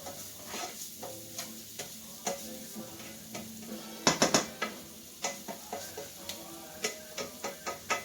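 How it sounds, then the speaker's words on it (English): Arancini mixture seasoned with ground pepper being stirred in a pan, giving a series of close scraping and clinking strokes in an irregular rhythm over a soft sizzle, with a louder cluster of knocks midway. "Give them a stir."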